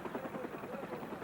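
Evacuation helicopter flying over Saigon at the end of the Vietnam War, a faint, steady rotor drone throughout with no speech.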